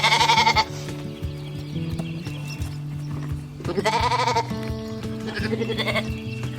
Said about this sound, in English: Come on, lambs.